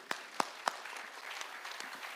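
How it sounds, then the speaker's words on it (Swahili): An audience claps for a regional commissioner at a security meeting in Migori, starting with a few sharp separate claps and then settling into steady, moderate applause heard from a short distance. "Haya, pigieni RC makofi."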